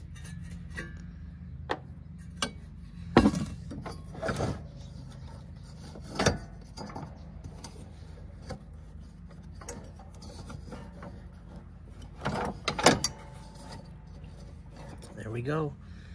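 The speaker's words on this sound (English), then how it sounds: "So this here was just a 5/16 socket. Go ahead and loosen these up and remove this cover." A 5/16 socket clicks and clanks against metal bolts while a mower deck cover on a Cub Cadet riding mower is loosened and removed, with scattered sharp metallic knocks and rattles close by in a quiet garage.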